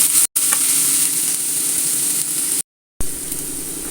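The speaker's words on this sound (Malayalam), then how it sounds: "അതിലേക്ക് 2 സവാള ഇട്ട് കൊടുക്കണം. അത് നന്നായിട്ട് വഴറ്റിയെടുക്കാം." Sliced onions sauté in hot coconut oil in a pan for a Kerala fish biriyani, giving a loud, close, steady hissing sizzle broken by two brief silent gaps.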